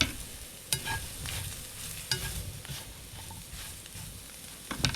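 Mushrooms sauté in a pan with a soft, steady sizzle, broken by a few sharp scrapes and clicks of stirring, close by and without talk.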